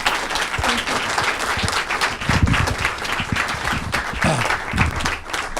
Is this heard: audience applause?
yes